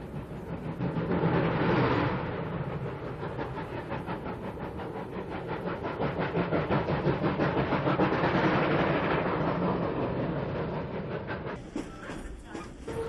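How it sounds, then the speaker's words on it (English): A steam train rolls along rails, 1950s-style rolling stock on the Union Limited, giving a steady rhythmic clatter with swells of noise, heard close from aboard and continuous throughout. "the noise of the rails"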